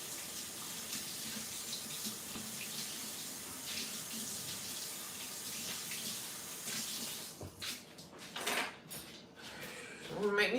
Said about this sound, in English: I'm just washing the dish.